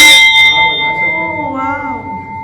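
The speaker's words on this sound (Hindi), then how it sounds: "घंटी भी बजा सकते हैं।" A temple bell in a dim Shiva temple struck once, a bright metallic ring that lingers and fades while people talk over the decaying tone.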